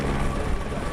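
Steady, close, loud rotor and engine drone of a helicopter on a film shoot, a continuous low, throbbing roar with no other sounds.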